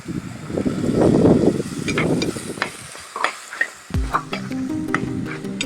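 Sliced onions and small shallots go into hot oil in a pan for a pepper chicken curry, giving a loud crackling sizzle that is stirred, then a sharp clatter as more go in and the frying settles to a steady hiss.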